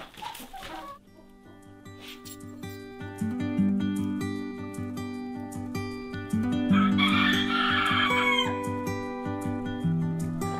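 Chickens on a homestead cluck steadily and close by, and a rooster crows loudly partway through, over a constant tonal background with no talking.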